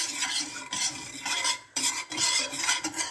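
Sugar syrup (chasni) being stirred in a pan, a close, loud run of repeated swishing and scraping strokes with a short pause midway, no voices.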